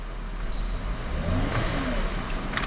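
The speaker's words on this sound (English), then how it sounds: "I'm going to rev the engine." A 2008 Mercedes-Benz C350 sedan, running at idle, is revved once, its engine tone climbing smoothly and strongly over a low steady rumble.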